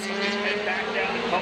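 Race cars roaring through the last lap of the St Petersburg Grand Prix street race, a loud continuous engine drone with shifting pitch as cars pass close by.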